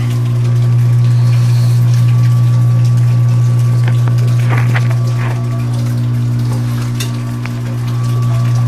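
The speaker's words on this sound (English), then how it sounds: "all we're trying to do is just rinse all of the sugars all the sugars from the grains" Water trickles steadily through the grain bed during a fly sparge for a German wheat homebrew, a constant wash over a low pump-like hum with a few faint clinks, no talking.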